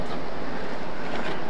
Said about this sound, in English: So now I'm going to dump it in the hot water, totally immerse it in the hot water